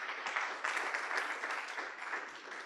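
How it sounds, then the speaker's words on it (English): Conference audience applauding as panelists are called up onto the stage, a faint, steady wash of distant clapping in a large hall. "with a round of applause, bring them up onto the stage"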